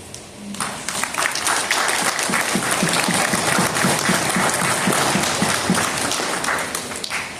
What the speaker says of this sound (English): The crowd we hear from members of the populace.